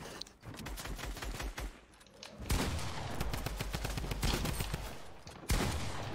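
Rapid, sustained automatic fire from the drum gun in Fortnite Creative mode, a loud chattering stream that pauses briefly near the start and then resumes in dense bursts, with no voices.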